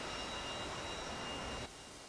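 A JAS 39C jet engine in the DCS flight simulator runs as a steady broadband roar with a faint high whine, then drops abruptly to a quieter hum near the end, with no voices.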